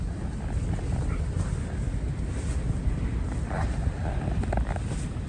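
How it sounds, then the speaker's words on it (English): Strong wind gusting across a frozen lake during ice camping, a steady loud broadband roar with constant buffeting and no speech. "Little bit windy."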